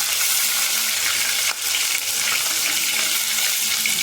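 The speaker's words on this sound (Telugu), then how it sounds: "జీలకర్ర, ఆవాలు, ఆనియన్స్ వేసుకుందామండి" Cumin, mustard seeds and onions sizzle loudly in hot oil in a home kitchen, a dense continuous hiss and crackle that dips briefly midway, then carries on.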